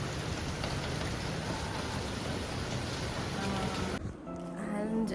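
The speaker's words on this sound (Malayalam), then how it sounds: "ഇവിടെ ഭയങ്കര മഴയാ" Heavy rain falls in a steady, dense hiss that lasts about four seconds before suddenly dropping away into a quieter background with faint voices.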